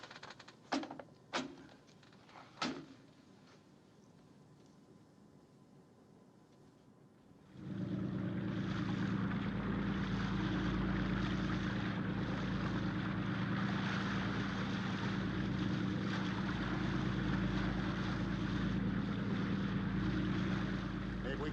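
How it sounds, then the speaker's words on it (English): A few sharp clacks in near silence are followed by a propeller plane approaching, its engine rising to a loud, steady drone that holds to the end. "Contact plane approaching on schedule."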